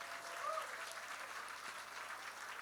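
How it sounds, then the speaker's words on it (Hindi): Audience clapping at a public event with Ravi Kishan, fairly faint and distant, a continuous wash of claps that holds steady for the short span. "जोरदार तालियां।"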